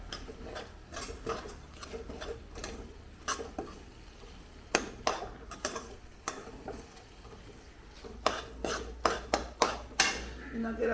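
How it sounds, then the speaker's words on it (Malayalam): A spoon stirs poha with cardamom and sugar in a pan, giving irregular metallic clinks and scrapes that bunch into quick clusters of taps over a low background. "ഇനി നമുക്കിതിനെ ഒന്ന് ഇളക്കി ഒന്ന് പുരട്ടിയെടുക്കാം"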